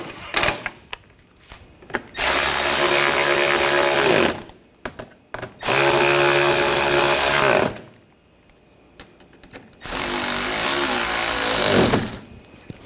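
A power tool tightening bolts on the front rearward lower control arms of a 2007-2013 BMW X5, three loud sustained whirring bursts of about two seconds each, separated by pauses with small clanks.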